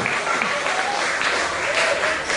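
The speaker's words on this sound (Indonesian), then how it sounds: "saya minta tepuk tangan sekali lagi untuk peserta yang berlomba untuk hari ini" Audience applause at a village quiz competition for the contestants, a steady dense clapping of many hands filling the whole stretch without a break, fairly loud and close.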